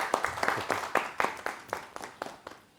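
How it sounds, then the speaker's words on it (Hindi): A small group claps at a retirement-benefits gathering, slightly uneven but steady individual hand claps, fairly quiet and fading toward the end. "इनके लिए जोरदार तालियां हो जाए"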